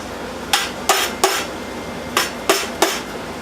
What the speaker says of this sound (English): take a soft face mallet, and I drove my slugs in from the 1 inch tube